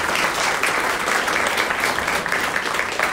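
Audience applause in a theatre at a book premiere: dense, steady clapping from a full crowd fills the whole stretch at an even, loud level without a break.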